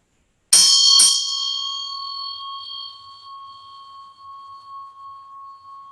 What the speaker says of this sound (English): allowing these sound waves that are emitted from the bell to be able to release anything that is not serving you at this time